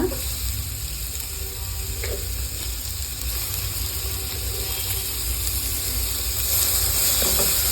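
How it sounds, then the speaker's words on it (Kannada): Tomatoes frying with onions in a pan for shavige upma, a continuous loud sizzle with crackling and occasional scraping clicks, steady throughout without talk. "ಟೊಮೊಟೊ ಒಂದು ಸ್ವಲ್ಪ ಫ್ರೈ ಆದರೆ ಸಾಕು"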